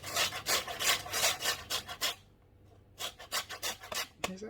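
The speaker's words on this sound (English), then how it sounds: "is get the zest off the limes. Now I've got a zester here, but I tend to use the plate a bit." Limes are zested on a flat grater plate for a ginger and lime cheesecake, giving rapid rhythmic rasping strokes up close, a brief pause, then another run of scraping ending with a light knock.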